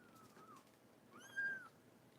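A cream-colored English cream cat lets out a short rising-and-falling meow, faint and close, with a quieter earlier mew before it against a soft room hush.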